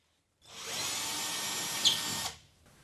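A power drill with a 5.5mm bit drilling holes in a wall whines steadily for about two seconds, bites with a brief louder burst near the end, then stops. It is close and fairly loud, with no talking.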